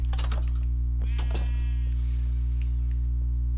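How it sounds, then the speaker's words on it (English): Minecraft sheep bleat twice in quick bursts, fairly loud and close, over a constant low electrical hum in the game session. "Shut up, sheep."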